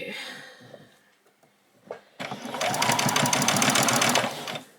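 A sewing machine stitches ruffles for a doll's dress in a fast, even, close-up run that fills the second half, after a quieter stretch with faint voice sounds.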